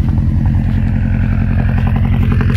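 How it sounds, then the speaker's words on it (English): A modified Subaru WRX runs through an aftermarket exhaust, giving a loud, close, steady low rumble with an even pulsing burble and no voices over it. "Got a sweet exhaust system."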